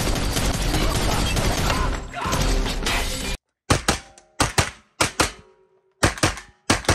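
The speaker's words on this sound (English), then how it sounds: "That's the John Wick 3 gun, the Continental" A 2011 pistol, the John Wick 3 Continental model, fires in close, sharp bursts: a dense noisy stretch, then a break and several separate loud cracks with quick decays and gaps between them.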